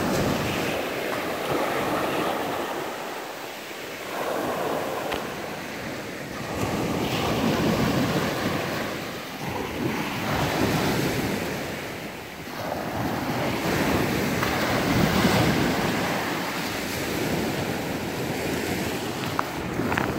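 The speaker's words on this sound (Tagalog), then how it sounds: "dito talaga malakas ang alon" Strong ocean waves roll and crash in repeated surges over the Kalanggaman Island sandbar in Leyte, Philippines, with a constant roar of surf and wind buffeting the microphone.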